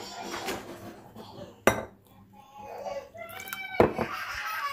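Dough being mixed with salt and warm milk in a bowl, giving sharp utensil clinks and scrapes against the dish, with quiet talk and a voice in the background.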